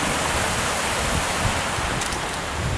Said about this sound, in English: Johnson Creek, up in Maggie Valley, North Carolina.